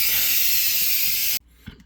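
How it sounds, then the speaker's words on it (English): Steam hisses loudly and steadily as it is released from a cooker while making Chinese-style chicken, then cuts off abruptly, leaving faint clicks and room noise. "Releasing all that precious steam."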